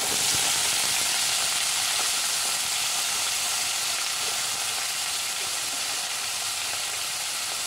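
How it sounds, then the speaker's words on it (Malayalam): Chopped okra, tomato and eggplant sauté in hot oil in a pan for a Kerala sambar, giving a continuous loud sizzle that holds steady from start to finish. "ഇതിലേക്ക് നമുക്ക് 4 വെണ്ടയ്ക്ക അരിഞ്ഞത്, 1 വലിയ തക്കാളി അരിഞ്ഞത്, 1 കത്തിരിക്കയുടെ പകുതി ഇത്രയും അരിഞ്ഞത് ചേർത്ത് വഴറ്റിയെടുക്കാം."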